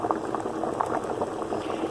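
Rice simmering in water in a pot for Cuban rice pudding, a steady close bubbling and soft popping of boiling liquid with no voices.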